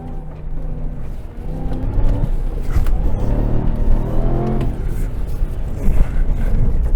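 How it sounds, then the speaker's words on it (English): A RAM TRX pickup rallycrosses on a loose track, its engine rumbling loudly and rising with brief throttle blips, with gravel and road noise throughout. "I try to blip the throttle"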